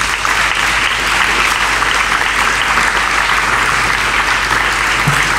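Loud, sustained audience applause for a speech by the mayor of Marseille, a dense wash of clapping from a large crowd with a low hum beneath, unbroken throughout.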